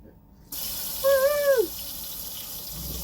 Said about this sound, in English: let's go and see whether the pump runs properly now